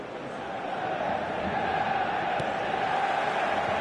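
A stadium crowd in an eFootball video game match roars as a steady, dense wall of distant cheering and chanting that swells slightly, with no commentary over it.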